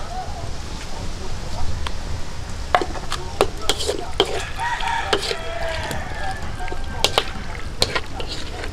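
Squid adobo with black pepper stirred in a pan outdoors, with repeated sharp scraping clacks of a utensil over a steady sizzle, a rooster crowing in the background and a person talking.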